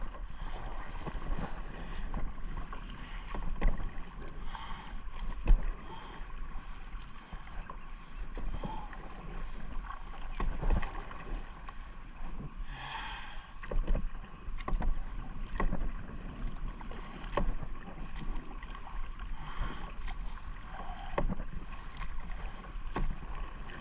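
A kayak being paddled through mangrove water in Cape Coral, rhythmic paddle dips and splashes close by under light wind noise on the microphone.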